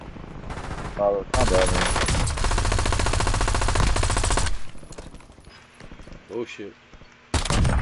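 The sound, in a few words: gunfire and machine gun shots in a video game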